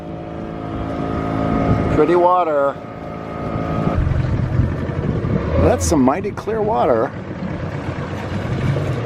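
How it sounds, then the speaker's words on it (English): A little motorboat carries passengers off the Stone Town waterfront in Zanzibar, its engine droning loudly and continuously with wind noise while people talk over it. "Here we go, and we're off in a little boat."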